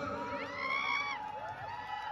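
A festival crowd at the Kanbai Mata celebration in Galangi, Khandesh, cheering and whooping with shrill overlapping shouts, fairly faint and continuous with no distinct clapping.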